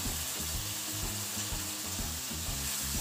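Small fish in a spicy masala sizzle and crackle steadily in a hot pan, with repeated scraping strokes of a spoon stirring through the mixture at close range, and no talking.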